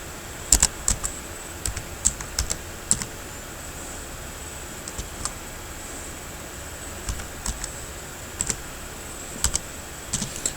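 Data typed into a Microsoft Excel spreadsheet on a computer keyboard: bursts of sharp, close key clicks in uneven clusters separated by short pauses, over a steady high-pitched background whine, with no voices.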